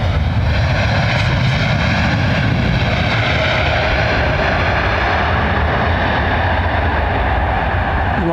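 An aircraft landing at London Heathrow Airport gives a loud, steady, broadband engine roar that stays constant throughout, close and unbroken, with no voices.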